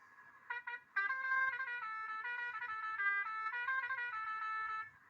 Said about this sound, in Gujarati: આપણું બીજું હોરન,